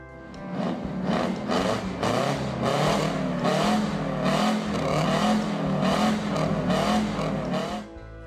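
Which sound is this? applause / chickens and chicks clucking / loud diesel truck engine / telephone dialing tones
loud diesel truck engine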